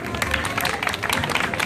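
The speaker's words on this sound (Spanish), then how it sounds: "Fuerte los aplausos para este pequeñito." A crowd applauds a small child at an award ceremony for the best carrizo of a convite in Zaachila, with steady, dense clapping mixed with crowd murmur.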